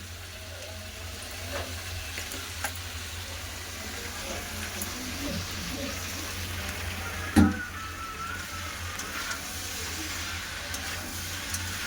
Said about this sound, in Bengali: কুমড়া আলু ভালো করে ভাজা হয়ে গেছে এবার দিয়ে দেবো সারাগার ডাটা